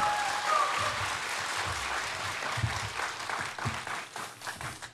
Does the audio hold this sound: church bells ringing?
no